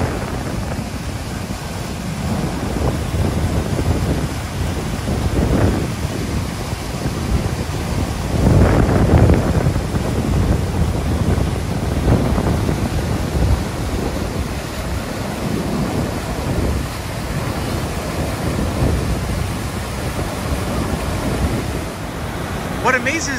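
Steady roar of rushing water from the American Falls at Niagara Falls, a broad continuous wash heard close up with some wind buffeting the microphone, and a voice talking intermittently over it.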